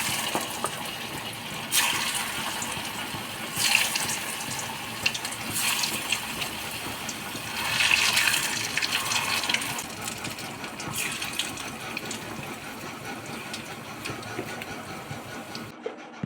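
Soybean kofta balls slide one by one into hot frying oil, each drop setting off a loud, broad sizzling hiss that swells, then settles into a steady bubbling crackle, repeating several times.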